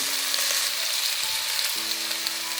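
Potatoes tumble into a hot wok of stir-frying food, a loud bright continuous sizzle that swells as they land, with faint stirring underneath.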